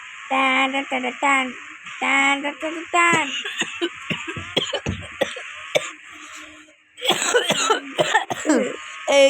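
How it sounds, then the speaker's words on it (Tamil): Repeated harsh coughing fits, close and loud, broken by short pauses, with some breathy throat sounds between bursts. "இருமல் வந்துச்சு உனக்கு."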